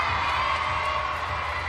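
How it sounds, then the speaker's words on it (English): Crowd cheering gymnastics floor scores at Pauley Pavilion during a Utah at UCLA meet, a dense sustained roar of many voices with whoops and high shouts, steady and loud throughout. "So the crowd continues to cheer the scores over on floor."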